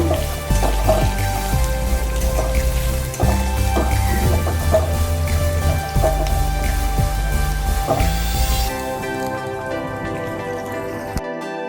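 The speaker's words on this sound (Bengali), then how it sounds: "পেঁয়াজটা একটু ভেজে নেব।" Chopped onion frying in a pan for a Bengali tilapia fish jhal, with a steady close sizzle and crackle that drops away sharply near the end.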